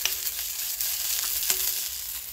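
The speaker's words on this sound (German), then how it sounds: "schön die Würste rein die anbraten" Sausages sizzle and crackle steadily in a hot iron pan, a dense, close frying hiss with faint scrapes and no voices.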